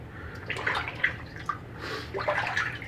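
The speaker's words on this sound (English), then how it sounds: "with a twin blade you gotta rinse a little more often" A twin-blade razor is rinsed under running water at a sink, giving soft, irregular splashing and trickling bursts at close range over a quiet background hum.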